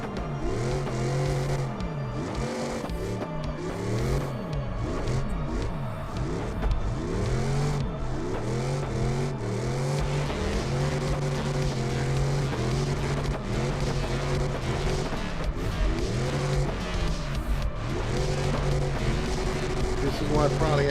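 A drifting car's engine revs almost constantly, rising and falling in sweeping pitch over a steady low drone, with a voice talking throughout.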